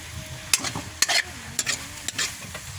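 Spoon or spatula stirring an egg omelet as it fries in a pan, giving a few sharp scraping strokes over a steady low sizzle, close and fairly loud.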